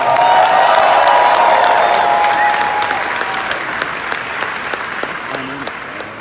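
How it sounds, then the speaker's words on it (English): A large convention audience in Las Vegas applauds loudly with scattered cheers, the dense clapping fading gradually toward the end while a voice briefly sounds beneath it. "Give them another round of applause."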